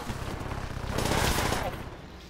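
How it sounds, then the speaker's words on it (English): Power-up turrets in Call of Duty: World at War zombies fire automatically in a steady muffled rattle that swells near the middle and then eases back, with no voices over it. "The turrets just automatically fire."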